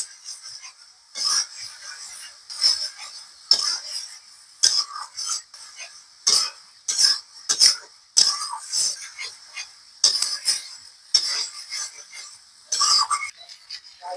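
A spatula stirs baim (eel) fish frying in a pan, irregular bright scraping clinks and short rattles repeating every second or so against a quiet background.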